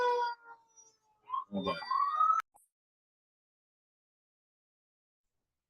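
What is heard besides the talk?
ambulance siren driving by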